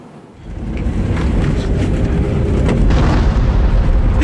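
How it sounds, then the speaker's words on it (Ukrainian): A deep, rumbling boom from an M101 howitzer swells up and rolls on for several seconds, loud and sustained, with wind buffeting the microphone. "спокій піхоти забезпечує вогонь із гармат і гаубиць"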